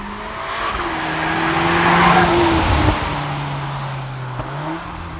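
Cupra Ateca engine and exhaust with flap valve control, heard close and loud as it accelerates, a droning engine tone rising and falling in pitch over a rough rushing exhaust roar, with no talking.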